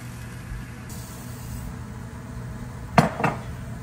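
Four cups of rice poured into a pot of boiling water for Cajun dirty rice, one short clattering rush near the end over a steady low kitchen hum.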